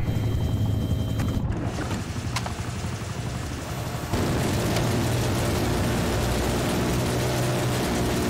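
A chopper gunner helicopter in a first-person shooter video game, with a dense, loud, continuous engine and rotor roar mixed with rapid gunfire and explosions, sustained throughout with a brief shift partway through, no speech.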